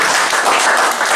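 A workshop audience applauds after a talk, with dense, steady clapping from many hands filling the room, loud and close, with no speech over it.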